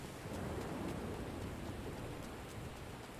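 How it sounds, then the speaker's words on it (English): Rain falls in a video game as a soft, even wash of droplets with a low rumbling undertone, faint and steady without voices. "It's so beautiful, the rain."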